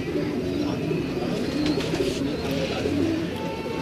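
Breeder pigeons coo in a steady, dense low murmur from many birds at once, unbroken and moderately loud throughout with a busy, crowded loft texture.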